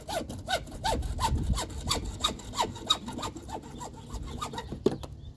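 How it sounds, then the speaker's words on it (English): Hacksaw cutting by hand, with about a dozen rhythmic back-and-forth rasping strokes close by, each stroke a sharp scraping burst before the sawing stops near the end. "A couple hacksaw does the trick."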